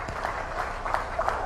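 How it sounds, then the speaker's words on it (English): An audience at a conference session claps in applause, a brief, steady patter of many hands at moderate distance. "Another big hand of applause to everyone"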